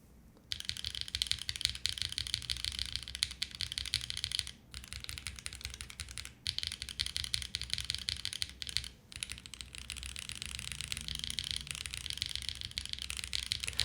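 Fast, steady typing on a mechanical keyboard, close up, with crisp clacky keystrokes and a few short pauses.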